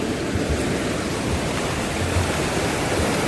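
Floodwater of the swollen Ambika river rushes in a steady, loud, unbroken roar with a deep churning low end and no voices.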